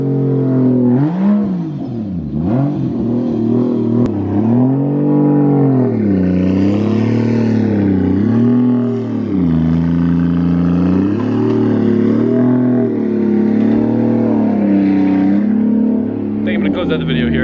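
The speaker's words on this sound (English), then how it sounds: "Our cars are gonna sound really cool together." Loud car engines rev up and down repeatedly, their pitch rising and falling in long sweeps throughout.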